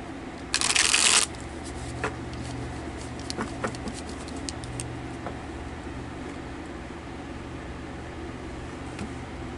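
Tarot cards shuffled in one short, crisp burst near the start, then a quiet room with low steady hum.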